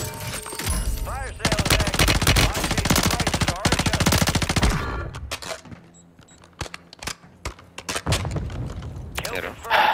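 Sustained automatic gunfire in Call of Duty Warzone on Rebirth Island, a long dense rattling burst followed by scattered single shots and more bursts, loud and close, with players talking over it.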